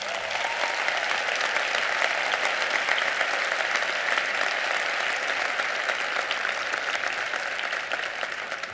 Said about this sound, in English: So please give a round of applause for Mark Breslin.